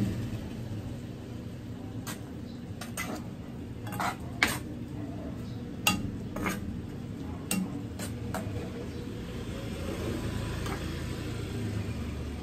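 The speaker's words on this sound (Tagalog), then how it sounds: "Haluin muna natin." A spoon stirs paksiw in a cooking pot, giving a run of faint, scattered metallic clinks and scrapes against a quiet room hum, with no talking.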